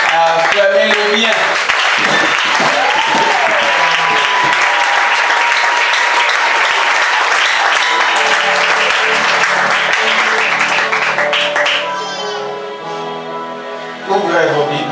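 A church congregation claps loudly and continuously in praise, dense applause mixed with shouts and cheering; toward the end it thins out and a sung or spoken voice emerges over a sustained musical tone.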